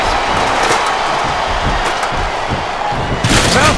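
A roaring arena crowd in a WWE wrestling video game, a dense continuous wash of noise with scattered thumps and a swell toward the end.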